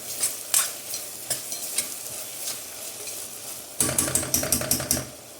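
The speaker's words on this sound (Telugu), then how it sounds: "అప్పుడప్పుడు మధ్యలో కలుపుకుంటూ ఉండాలన్నమాట" Onions fry in a pan for natukodi chicken curry, a steady sizzle broken by repeated scraping stirs of a spoon, busier near the end.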